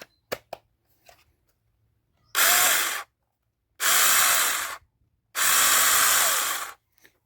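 A few light clicks, then three bursts of a small battery-powered cordless garden saw whirring loudly, each running a second or so with short silent gaps between.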